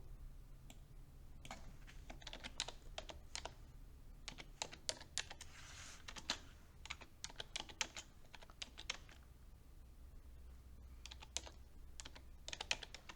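Quick, irregular bursts of clicking from typing on a computer keyboard while entering a chart title in a spreadsheet, close and fairly quiet over a low steady hum, with no talking.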